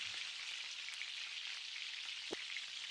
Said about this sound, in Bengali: একে একে সব ডিমগুলো আমি তেলের মধ্যে দিয়ে দিয়েছি।